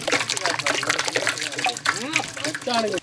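Liquid pours and splashes steadily while fresh mango juice is being made, a continuous close gushing and trickling sound with voices talking over it.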